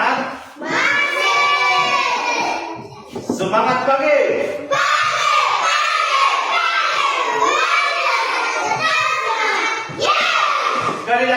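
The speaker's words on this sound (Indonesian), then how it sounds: "Berikan tepuk tangan untuk temanmu." A classroom of children claps for a classmate, with lively shouts and chatter mixed into the burst of applause, and an adult voice talking over it.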